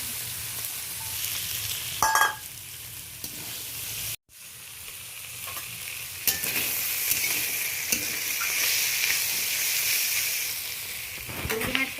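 Small shrimp with onion, fried potato and eggplant sizzle steadily in a pan, with intermittent scraping stir strokes and a brief dropout partway through; no talking.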